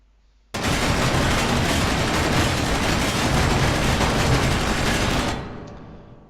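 Sustained machine gun fire from a Space Engineers ship weapon tears at smaller ships, a dense unbroken roar of rapid shots lasting about five seconds before cutting off abruptly.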